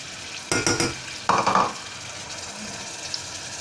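A julienne of leek, carrot, onion and celery sweats in a pan, a soft steady sizzle broken by two short bursts of stirring scrapes, close and alone.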